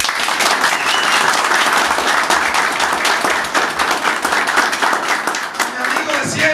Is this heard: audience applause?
yes